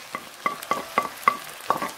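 Mushrooms and onion are stirred in a frying pan, making a quick run of six or so short scraping strokes over a light sizzle, close and fairly clear.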